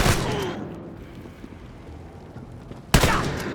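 A shotgun fires in a first-person shooter game: one sharp blast opens the clip, a quieter gap follows with faint ambient game noise, then a second loud shot lands near the end.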